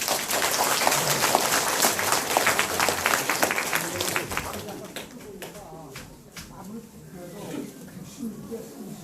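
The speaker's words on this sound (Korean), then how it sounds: "다시 한번 우리 한번 격려의 박수 한번 쳐줍시다" An audience at a Korean poll-watcher training session in Goyang's Ilsan district applauds, crowd clapping loud at first and then thinning out into scattered claps while talk continues over it.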